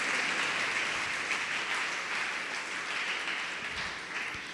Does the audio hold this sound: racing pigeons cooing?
no